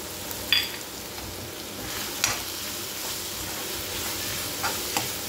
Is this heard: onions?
yes